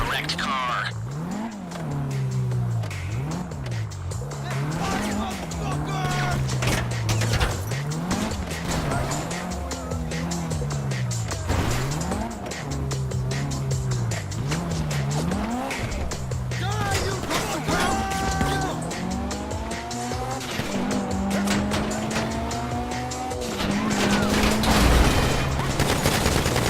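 Car in Grand Theft Auto V, engine revving up and down repeatedly with tire squeals and bursts of gunfire, loud and continuous under speech.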